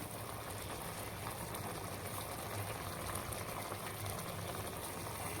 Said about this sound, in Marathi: दोन उकळी आले की झाली भाजी